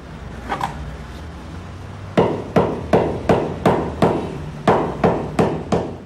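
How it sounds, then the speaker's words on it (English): Sharp, evenly spaced hammer blows strike a leather hurling ball about ten times to set its stitches, each a loud thud with a quick decay and no talking. "Hammering the ball rounds the joints and sets the stitches."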